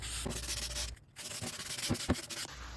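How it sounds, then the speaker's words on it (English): Folded 180 grit sandpaper rubbed by hand along the grooves of a wooden dresser, giving close, raspy back-and-forth scrubbing strokes with a short pause partway through. "So I just folded some sandpaper, I think it was 180 grit, and just sanded those grooves out."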